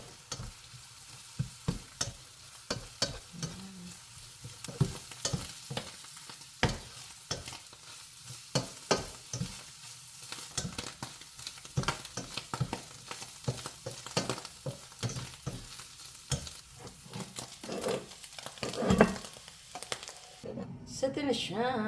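Tuna and onions fry in a pan, with a steady low sizzle under repeated scraping stirs and clacks of a utensil, close up, and some brief talking.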